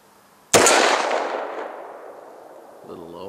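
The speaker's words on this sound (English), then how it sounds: "I'm gonna try taking a double action shot at the head." A single .500 S&W Magnum revolver shot fired double action at 25 yards, an abrupt, very loud blast that rings and decays slowly over a couple of seconds, with a faint voice starting as it fades.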